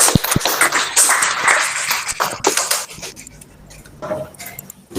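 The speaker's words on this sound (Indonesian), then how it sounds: "Sebelumnya kita berikan tepuk tangan dulu untuk Nanda Henry" Applause for a presenter at an online Indonesian teacher-training session, with scattered clapping and claps that come and go and trail off into near silence.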